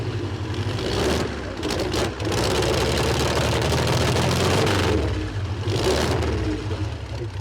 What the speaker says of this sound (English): A small engine like that sounds so good, you know?